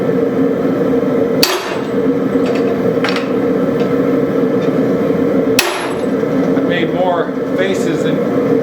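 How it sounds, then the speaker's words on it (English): Three sharp metallic hammer strikes drive a hammer eye drift into a forged railroad spike, spaced unevenly over a loud steady background hum, with a few faint clinks near the end. "Let's use my hammer eye drift."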